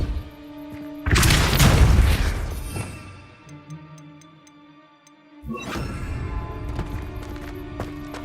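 A Depulso spell blast in Hogwarts Legacy erupts suddenly as a loud, booming whoosh that decays over about two seconds, followed by faint ticking chimes and then a second, softer surge of rushing noise.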